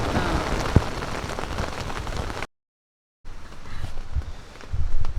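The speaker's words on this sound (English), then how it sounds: "it's raining kind of hard right" Heavy rain pours down hard on a campsite, a dense steady wash of drops hitting surfaces, broken by a short silent gap and then resuming, with a sharp knock early on.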